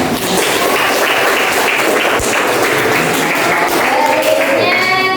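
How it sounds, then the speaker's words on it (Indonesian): A classroom of students clapping together, loud and continuous throughout, with some voices mixed in near the end. "Iya, tepuk tangan dong."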